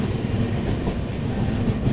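The Sairang Rajdhani Express rolling on rails toward Marwar-area junctions, a steady loud rumble of wheels with faint clickety-clack, heard continuously from on board.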